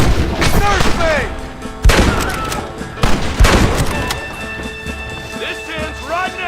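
Gunfire in the video game Red Dead Redemption, sharp loud shots in bursts against hoofbeats and game noise, with shouting voices over the action.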